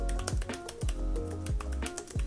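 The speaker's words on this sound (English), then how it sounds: "the keyboard types really well, especially with the palm rest" Typing on an Asus ZenBook Pro Duo 15 OLED laptop keyboard with a palm rest, a close, steady patter of keystrokes with a few heavier thumps, no talking.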